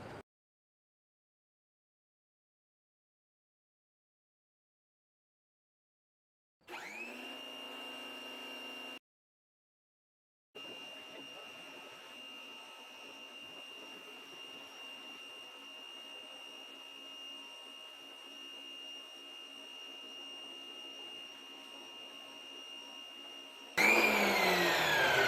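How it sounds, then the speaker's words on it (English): A power washer runs on a wooden deck, a steady high-pitched motor whine with broadband spray hiss, starting after silence, briefly cutting out, then continuing evenly and close, ending in a louder blast of spray. "you have to be careful with the power washer"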